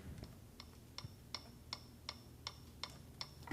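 Several clocks tick steadily in a quiet room, a regular series of sharp, faint clicks about every third of a second with a soft low hum beneath.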